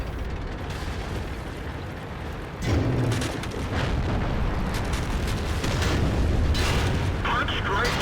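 A tank cannon fires in World of Tanks, a sudden heavy boom that gives way to a dense, roaring rumble of engine and battle noise that continues loud to the end.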